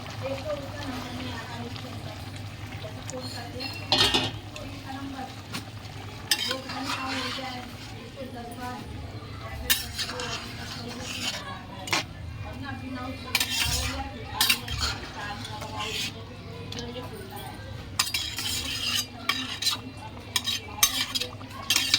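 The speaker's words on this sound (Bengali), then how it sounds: "এখন আমি জলটা ঢেলে দেবো গরম জল করেছিলাম বন্ধুরা জলটা আমি দিয়ে দেবো" Hot water poured into chicken curry in a pan (chicken kadai), with stirring and clinks of utensils against the pot through the clip, under a woman's speech.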